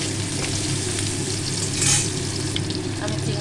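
Onions sizzle and fry in hot white oil with bay leaves and garam masala, a steady dense crackling hiss close up, with a few stirring scrapes.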